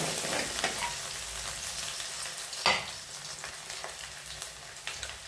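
Onion and cumin fry in oil in a pan with a steady, close sizzle, broken by a few stirring scrapes and one sharper clatter partway through.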